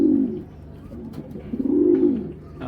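A white tiger grizzle racing pigeon hen coos twice, low throaty calls close by with a short pause between them and quiet background.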